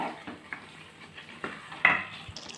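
A spoon works through mutton curry in a pot, mixing in turmeric, salt and chili powder, giving soft scraping swishes and a few light metallic clinks close by.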